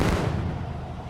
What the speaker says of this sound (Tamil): ஸோ இப்போ ராக்கெட் லான்ச்சர் வச்சு அடிக்க வேண்டியதான்.